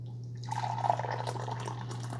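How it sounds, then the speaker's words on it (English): Coffee pours from a Cuisinart SS-12 Brew Basics coffee maker carafe into a cup, a close, steady liquid stream with a gurgling fill over a constant low machine hum. "let's pour a cup of coffee"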